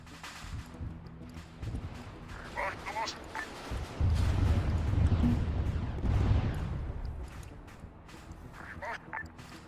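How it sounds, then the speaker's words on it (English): A loud explosion in the Arma 3 military game, a heavy low rumbling blast swelling midway and rolling on for several seconds amid battlefield noise, with voices talking over it. "That's the sound of us exploding."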